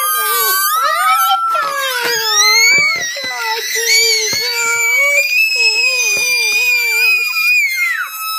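A pinched rubber balloon valve stretched apart lets out loud, continuous high-pitched screeching that rises and wavers in pitch for several seconds, close up with no talking.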